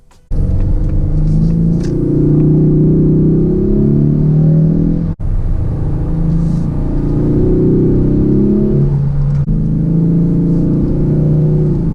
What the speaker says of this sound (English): when you're in sport, track, any of the other modes, like the more sporty modes, you will get some fake engine noise